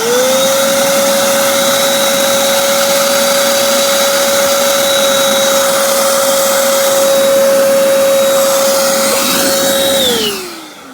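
A shop vac sits on top of a conduit, sucking a pull string through it with a loud, steady roar and a constant whine, then winding down at the end.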